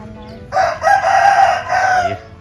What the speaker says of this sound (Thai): ไก่ตัวนี้คือ มอดุก ตกทอดสามคน